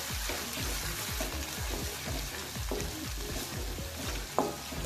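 Garlic and green chili paste frying in a pan, a steady close sizzle with soft scraping stir strokes and one brief clink near the end, no talking.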